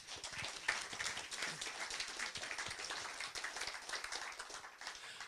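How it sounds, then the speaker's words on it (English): Scattered audience applause at a Barnsley FC fan forum greets the football club chairman, a steady, fairly quiet patter of clapping hands with no voices over it. "give a round of applause to the Barnsley FC chairman and co-owner, Neerav Parekh."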